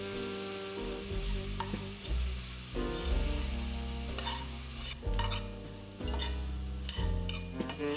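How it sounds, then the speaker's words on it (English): Onions and bell peppers sauté in a pot with a soft continuous sizzle, overlaid by repeated clinks and scrapes of stirring at a steady pace. "while I'm sauteing the onions and bell peppers"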